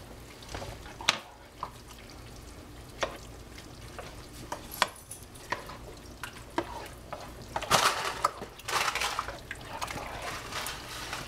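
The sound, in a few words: stirring chunky meat spaghetti sauce in a pot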